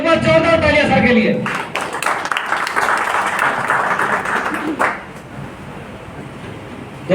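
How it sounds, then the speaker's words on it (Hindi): An audience at a Hindi-language talk gives a loud round of clapping for a speaker, swelling after a brief voice at the start and carrying steadily for several seconds before dropping off abruptly. "एक बार जोरदार तालियां सर के लिए"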